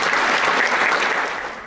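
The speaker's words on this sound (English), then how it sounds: "So let's give a round of applause again." An audience at a presidential installation ceremony applauds in a loud, continuous burst of clapping that starts fading toward the end.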